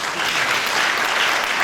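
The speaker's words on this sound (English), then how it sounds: "Can we clap for all of them?" Dense, steady applause from a lecture-hall audience at a university inaugural lecture, a broad continuous wash of many hands clapping with no pauses.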